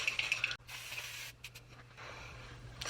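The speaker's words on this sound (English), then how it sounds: "We're gonna spray my face one more time." Makeup setting spray mists onto a face in a few quick, faint hissing puffs at the start, followed by quiet room noise.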